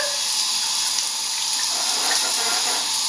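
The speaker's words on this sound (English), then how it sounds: "You having a nice shower?" Shower water running steadily as a continuous hiss and spatter, fairly close and loud throughout, with no talking.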